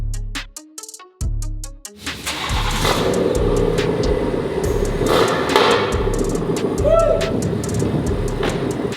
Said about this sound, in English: we'll give the car a start, and I'll let you see how it sounds and how it looks